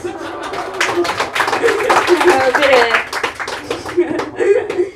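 A comedy club audience breaks into scattered applause and a few chuckles after a stand-up comedian's cue, the clapping building to a steady patter for a few seconds and then thinning out.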